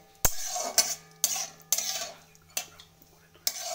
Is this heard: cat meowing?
no